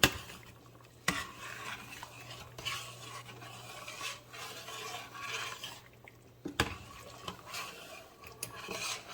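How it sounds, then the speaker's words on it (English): A spoon scrapes and stirs through a pot of rice and peas, soft scraping strokes with two sharp knocks against the pot, close and fairly quiet. "Give that a stir."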